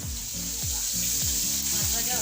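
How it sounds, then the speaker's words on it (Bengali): Fish frying in hot oil in a pan, a constant loud sizzle and crackle with a low rhythmic tone repeating underneath. "মাছ ভাজা হয়ে গেছে"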